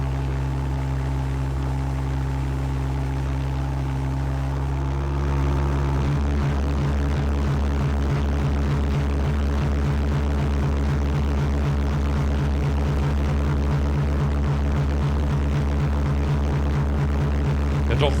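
A pulse jet engine mounted on a boat roars with a loud, steady drone, then after about five seconds shifts into a fast, rhythmic pulsing throb that carries on evenly to the end.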